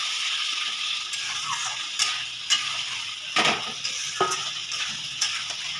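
Marinated chicken pieces go into hot spiced masala in a pan for a restaurant-style chicken curry, giving a steady loud sizzle broken by scraping stirs and a few clanks of the spoon against the pan.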